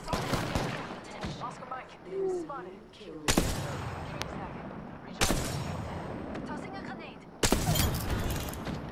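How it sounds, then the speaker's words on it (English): Gunfire in the battle royale video game Apex Legends, with a few loud, sharp bursts of shots spaced a couple of seconds apart, and quieter game sounds and a voice talking in between. "They're getting shot from behind."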